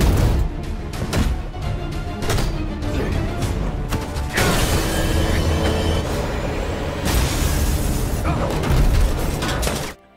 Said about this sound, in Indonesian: Tiba-tiba dari luar muncul tembakan.